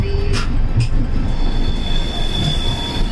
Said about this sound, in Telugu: ట్రైన్ మూవ్ అయిపోయింది.